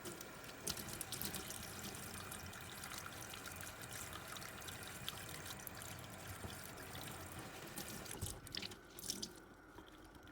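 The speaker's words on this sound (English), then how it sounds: "So I'm gonna go rinse them, well, run them under the water into the sink" Water running from a sink tap over paper towels, a steady faint splashing trickle with small drips, continuous and quiet.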